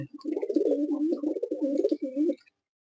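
Pigeons in a loft give a close, continuous run of throaty rolling coos lasting a couple of seconds, then fall silent.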